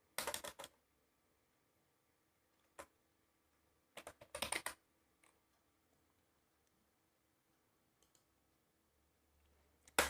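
A computer keyboard is typed on in short clusters of quick clicks with long quiet gaps between them, close and clear.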